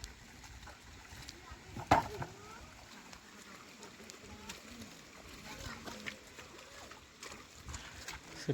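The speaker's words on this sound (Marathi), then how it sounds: "आता आमचे बैल आराम करण्यासाठी घरी चाललेत" Hooves of bullocks plod irregularly over wet paddy-field ground after ploughing, soft clops and splashes at a slow walking pace, with a faint background hum.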